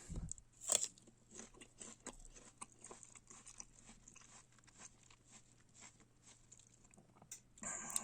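Someone bites and chews a crunchy winter pear, a steady run of crisp, close crunches and moist chewing clicks, fairly quiet, with no talking.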